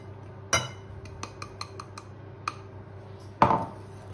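Utensil scraping and clinking against a bowl while mixing biscuit batter of flour and starch for a tiramisu, several sharp taps with two louder clanks, close and quiet with no talk.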